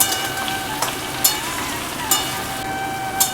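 Slit green chilies sizzle with fresh spinach in a hot pan for palong shak chochchori, a steady frying hiss with a few sharp stirring clicks, close and alone with no talk.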